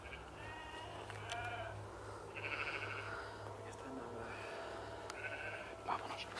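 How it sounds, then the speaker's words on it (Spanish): A sheep bleats several times, wavering cries at a distance amid outdoor noise, while people talk nervously over and between the calls. "Acabo de escuchar una niña ver una puta oveja llorando."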